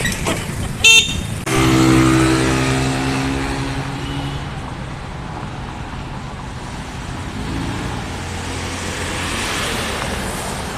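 Street traffic with passing cars and a few short horn toots near the start, followed by a steady rumble of engines and road noise close by.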